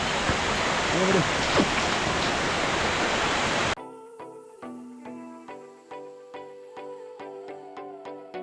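A mountain stream rushes loudly on the Rudranath temple trek, a broad steady roar of flowing water that stops abruptly partway through, giving way to quieter tonal sounds.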